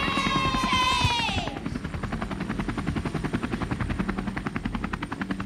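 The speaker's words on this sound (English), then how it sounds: "It's a helicopter." A helicopter flies overhead in a children's choir stage show, its steady rapid rotor chop pulsing evenly after a sung tone fades, fairly loud and continuous with no talk.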